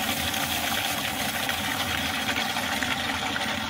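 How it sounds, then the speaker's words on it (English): Water gushes steadily into the live well of a Vexus aluminum bass boat, a continuous, close, even rush of pumped flow with no pauses. "that's going to start putting water into your live well"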